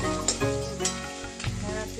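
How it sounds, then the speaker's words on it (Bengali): Onion frying in a pan gives a close, continuous sizzle with a few stirring clicks, over a steady tonal hum in the background. "তো পেঁয়াজটা আমি এদিকে ভেজে নিচ্ছি"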